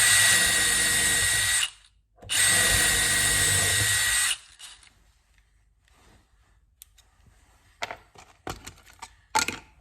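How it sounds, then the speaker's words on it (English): Dewalt Extreme 12V 5-in-1 driver spinning a small drill bit, two loud close whirring bursts separated by a brief pause, followed by quiet clicks and handling knocks. "It drills nice."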